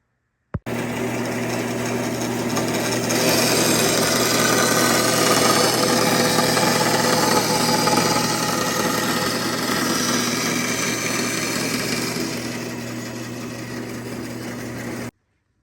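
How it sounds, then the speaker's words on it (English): A bandsaw runs steadily with a droning whine and hum, its tone roughening as the blade cuts through wood, then easing off near the end. "I'll set up my fence on the bandsaw and run these things through"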